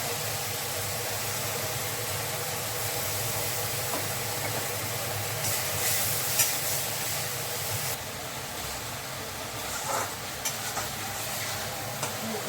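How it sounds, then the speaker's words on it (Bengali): Spice paste frying in oil for a soybean mash, stirred steadily, with a continuous close sizzle and scraping under light background hum, without speech. "মশলাটা ভাজা ভাজা হয়েছে, হ্যাঁ, তেল ছেড়েছে, ভাজা ভাজা হয়েছে।"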